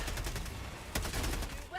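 Laser cannon firing in the video game Helldivers 2, a dense, steady burst of energy-weapon fire with crackling impacts, loud and continuous throughout, with a sharp surge midway.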